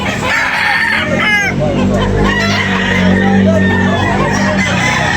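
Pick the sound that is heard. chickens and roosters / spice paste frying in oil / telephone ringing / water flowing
chickens and roosters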